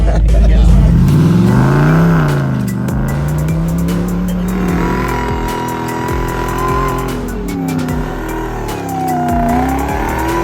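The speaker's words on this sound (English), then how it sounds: "I should not be letting Kevin drive a demon swapped Jeep right now." Jeep with a Demon engine swap revving hard, loud rising and falling engine tones with tire noise throughout, voices over the top.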